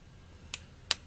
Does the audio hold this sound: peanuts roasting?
no